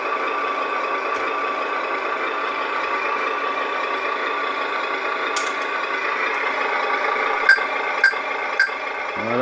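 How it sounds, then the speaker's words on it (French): A sound module in an HG P408 RC Humvee plays a steady, continuous diesel engine rumble that holds an even level, with three short, sharp beeps near the end. "Très joli bruit de moteur diesel."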